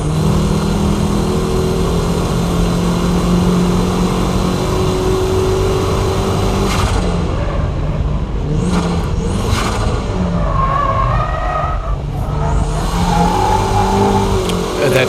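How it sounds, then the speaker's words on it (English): A car drifts through a corner, its engine revving hard and continuously near the listener, with pitch rising and falling as throttle changes through the slide. "That corner entry began as a braking drift, but towards the exit I switched to dynamic drifting."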